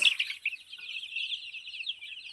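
Small chicks in a poultry shed peep in a continuous high-pitched chorus, fairly faint but steady, with no talk.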